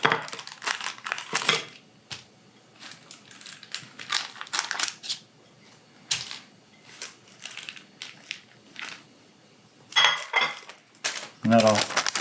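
A plate pressed down by hand onto raw homemade breakfast sausage, flattening it into patties, gives close, irregular bursts of crinkling and soft clattering with quieter gaps between pushes.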